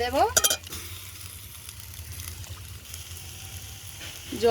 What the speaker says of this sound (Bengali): চিংড়িটা ভালো করে কষিয়ে নেব